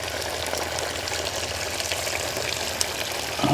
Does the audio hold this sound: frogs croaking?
no